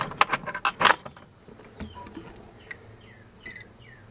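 Car keys jangle in a quick flurry of bright metallic clinks for about a second, then the sound settles into quiet outdoor ambience with faint chirps in the distance.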